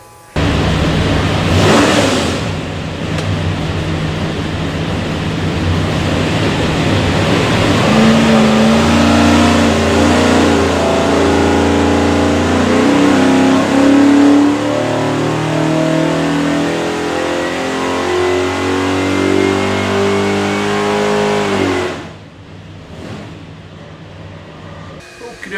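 All-aluminum 482 cubic inch Salem FE V8, built for a 1979 Ford Ranger, pulling on an engine dyno: a loud, sustained roar rising steadily in pitch through a long full-throttle sweep, then cutting off abruptly.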